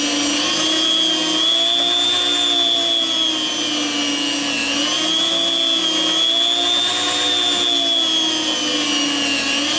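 A meat slicer cuts thin slices of sous vide corned beef, a steady loud motor whine with a rotating blade hum running continuously and close throughout.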